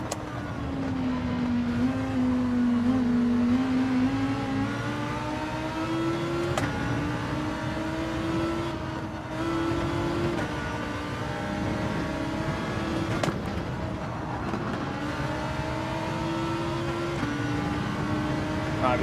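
A race car engine in Gran Turismo 7 pulls hard through a daily online race, its steady droning tone rising and falling with throttle and gear changes, loud and continuous with faint distant cars behind.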